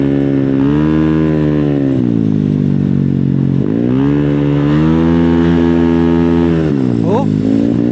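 Motorcycle fitted with a JM exhaust pipe revving loudly and close, the engine note rising and falling through several sustained throttle blips over a steady idle.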